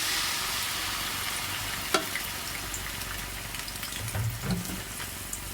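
Medium onion paste sizzles steadily in hot oil for an egg malai masala, a continuous close frying hiss broken by a few stirring scrapes and clinks, with no talking.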